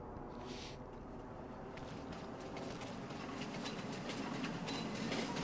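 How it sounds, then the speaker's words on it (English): A train in Farming Simulator 25 rolls in with a steady mechanical rumble and rhythmic clatter, growing gradually louder as it approaches, with no talk over it. "There's the train. There's the train there"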